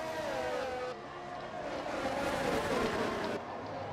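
Onboard Formula 1 car engine in the F1 23 racing game at the Spanish round, a steady loud droning whine with shifting pitch, sounding rough and strained as gears change.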